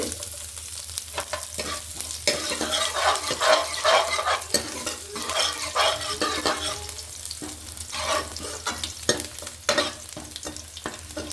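Cumin seeds and garlic fry in hot oil for manathakkali rasam, giving a loud, continuous crackling sizzle broken by frequent scraping stirs close by. No voices are heard.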